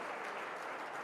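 Audience applause at a college event, steady dense clapping from a crowd filling the whole short moment, fairly loud and even with no speech over it.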